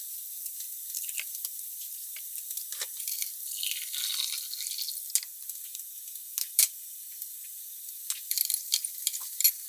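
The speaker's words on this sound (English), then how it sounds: "Okay, so olive oil has gone in, just a little bit in there. And then we're going to put and brown our onions." Onions browning in a little olive oil in a pan, a thin, steady high sizzle with scattered crackles and brief scraping sounds.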